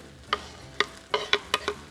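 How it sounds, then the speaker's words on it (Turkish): Minced meat and tomatoes stirred in a pot, a series of about six short scraping, sloshing strokes in an uneven rhythm over a faint background sizzle. "Onu tenceremize gönderdikten sonra yavaş yavaş harcımızda karıştırdık."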